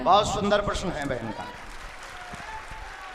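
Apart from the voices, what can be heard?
audience applause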